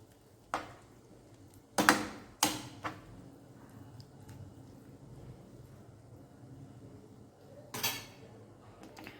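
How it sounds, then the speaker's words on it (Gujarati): A spoon stirs onion, cashew and peanut paste in a pan, giving a few sharp metallic clinks and scrapes against the pan, spaced out over a quiet, faintly hissing background. "ડુંગળી અને કાજુ અને સિંગદાણાની પેસ્ટ ઉમેરી દઈશું અને મિક્સ કરી લઈશું"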